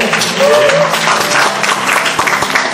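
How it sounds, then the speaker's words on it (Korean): Audience applause following a presentation at an idea contest, a short burst of steady clapping from a room of listeners with some voices and crowd noise woven through. "다시 한 번 큰 박수 부탁드리죠."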